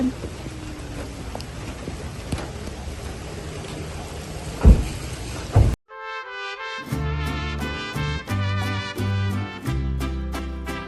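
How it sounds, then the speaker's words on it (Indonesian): Rain falls steadily for about half the time, a hissing wash broken by a couple of thuds, before it cuts off abruptly and music takes over. "Lagi hujan-hujan ya kan?"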